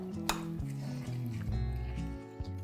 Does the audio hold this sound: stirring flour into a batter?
yes